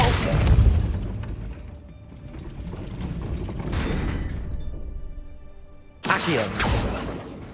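A Depulso spell fires in Hogwarts Legacy: dense mechanical, grinding game effects with booming low thuds run steadily, then a sharp, bright burst of impact near the end cuts in loud and close.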